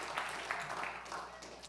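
Brief applause from a demo day audience during a startup pitch, a soft patter of clapping running under the presenter's continuing voice.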